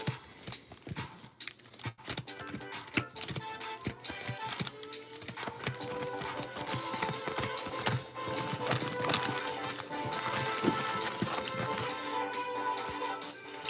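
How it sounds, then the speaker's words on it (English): A deck of Pokemon trading cards is riffle-shuffled repeatedly during a booster box break, giving a steady run of crisp flicking, slapping and rattling card noises, close and fairly loud throughout. "All right, we're going to shuffle it 7 times."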